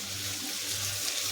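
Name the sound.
hot water poured into boiled meat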